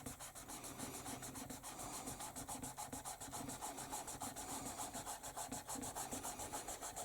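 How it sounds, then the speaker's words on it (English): Steady, rapid rubbing strokes sound as grey scale shading is smoothed along a drawing, a close, soft, rhythmic scratching that continues evenly without talk. "I'm just going to smooth them all the way along like that"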